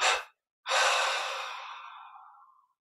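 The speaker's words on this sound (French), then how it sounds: "on prend une inspiration profonde, on expire en 3 fois" Guided meditation breathing, close and clear: a short breath followed after a pause by a long exhale that slowly fades away, with no talk.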